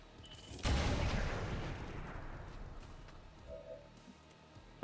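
A soldier's weapon fires at an enemy in XCOM 2: one loud, heavy shot rings out close by, then rolls into a long, fading reverberant tail with faint game sounds after it.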